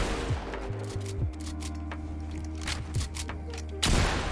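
Rapid bursts of gunfire in a Fortnite match, several quick volleys and booms layered over game effects, loud and close, with a heavy blast near the end.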